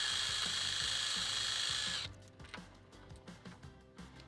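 A power tool runs steadily, whining loudly for about two seconds while removing the bolt at the top of an RV patio awning arm, then cuts off and leaves faint clicks and handling noises.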